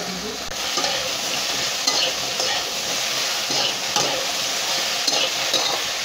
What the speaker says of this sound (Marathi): आपण असं तेलामध्ये जास्त छान असं परतून घ्यायचं फुल गॅसमध्ये